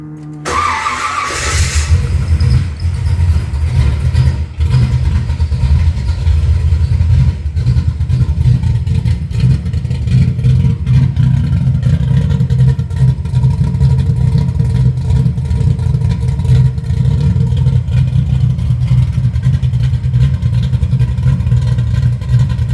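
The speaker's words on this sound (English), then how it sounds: "Let's see what it's gonna sound like. See if it's gonna crank up." An 1988 Chevrolet Monte Carlo engine with a swapped muffler turns over briefly, then catches and runs with a loud, steady rumble, rising slightly as it is revved, close up.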